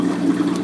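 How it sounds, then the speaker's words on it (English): Water gurgles in an aquarium, a short, loud, continuous bubbling wash with no talk. "Well, it's gurgling."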